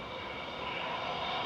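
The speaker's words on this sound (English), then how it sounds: "Here is EasyJet from Reus." Steady, fairly faint broadband roar of an EasyJet airliner arriving from Reus at Manchester Airport, a continuous wash of engine noise with no distinct peaks over a short stretch.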